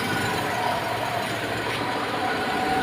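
A Toyota Kijang engine with a tuned carburetor idles smoothly at about 800 RPM, giving a steady low mechanical hum and rumble throughout with no revving.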